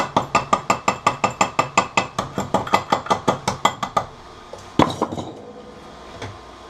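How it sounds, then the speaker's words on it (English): A hammer chips slag off an arc weld made with an R-Tech Pro Arc 175 inverter welder: about twenty quick, bright metallic taps in a steady rhythm, then a pause and one louder strike. "Let's chip off the slag and see what's underneath."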